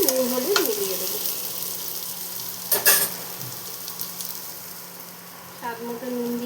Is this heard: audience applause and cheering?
no